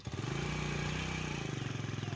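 A motorcycle engine revs hard to pull a cart stuck in a low patch of a wheat field, a close, loud, rapidly pulsing drone that rises in pitch, holds, then eases back, with no talking.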